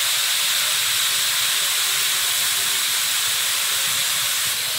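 Elephant foot yam fries in a pan with salt and turmeric, giving a loud, steady, close-up sizzle and hiss that runs unbroken for the whole stretch with no talking.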